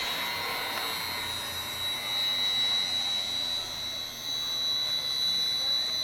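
A Woowon 7.5 horsepower high speed dissolver runs at about 1750 RPM, giving a steady, loud whirring drone with a thin high whine held throughout and no pauses.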